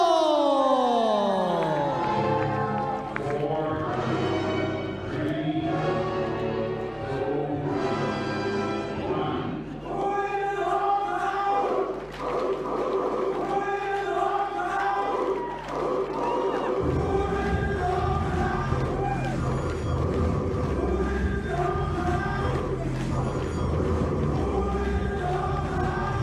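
A darts crowd at the Winmau World Masters roars and cheers as players walk on, a dense wall of voices and shouts mixed with loud walk-on music that runs throughout without letting up.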